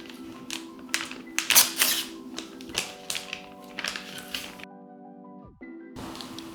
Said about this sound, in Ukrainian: Зараз ми будемо клеїти наліпки